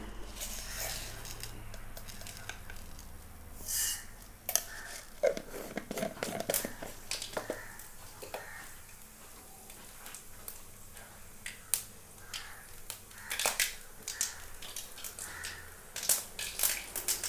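Sharp crackles and pops burst irregularly as mustard seeds splutter in hot coconut oil, sputtering loudly at first and then tapering into scattered snaps.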